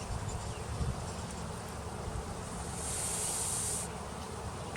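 Honey bees humming around an open beehive during a hive check, a steady near drone with a brighter buzz swelling in for about a second before easing back.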